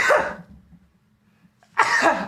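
Two sharp coughs from one person, the first at the start and the second after a near-silent gap, both close and fairly loud with a low background hum between them.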